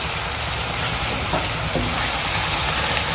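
Beef fries loudly with pink-softened onions and green chilies in a pan, a dense continuous sizzle with faint stirring, close and unbroken throughout.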